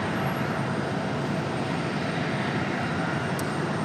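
A Delta jet touching down on the runway at Raleigh-Durham airport, heard as a steady broad roar of engine and rushing air at moderate distance, unbroken for the whole stretch with no voices.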